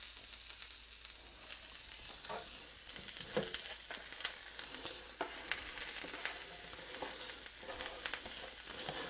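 Steady sizzling and crackling of potatoes and onions frying on a hot griddle, with scattered pops and scraping stirs, close and continuous, no talking.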